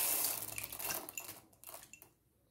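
Popcorn kernels pour into a pan already holding oil and sugar, a dense pattering rattle that thins out and fades over a couple of seconds, close and alone.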